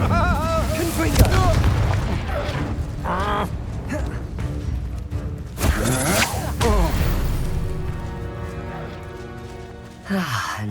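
The Confringo fire spell in Hogwarts Legacy fires off in a burst of loud blasts and whooshing booms amid busy combat effects, with spoken lines and background game sound around it.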